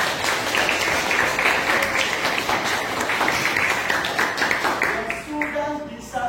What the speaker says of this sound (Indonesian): berikan aplaus untuk kelompok 9